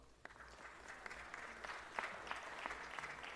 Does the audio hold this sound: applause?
yes